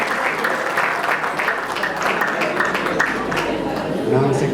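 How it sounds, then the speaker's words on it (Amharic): Wedding guests applaud at an apostolic wedding reception, a dense, continuous wash of clapping from a crowd that fills the whole clip, with voices mixed in underneath. "አጨብጭቡ፣ አታፍሩ፣ አጨብጭቡ"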